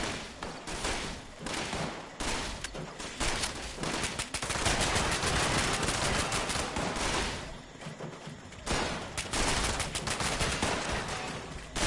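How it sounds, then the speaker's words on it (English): Sustained gunfire from the video game Fallout 76, dense volleys and bursts crackling almost continuously at high intensity, with a couple of brief lulls between heavy barrages. "Who are they shooting at?"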